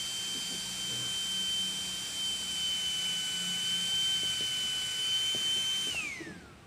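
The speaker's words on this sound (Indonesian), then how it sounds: "Kipasnya kencang banget suaranya." A small cooling fan on an LED H4 headlight bulb whines loudly and steadily at a high pitch, close up, then spins down and fades away as the bulb is switched off.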